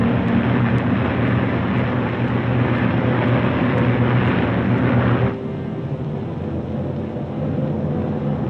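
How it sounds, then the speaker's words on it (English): P-51 Mustang fighter planes climbing in formation, a loud continuous roar of piston engines that drops to a lower, steadier drone partway through, with no voices. "The Mustangs climb in formation to take positions above the boxes of B-29s."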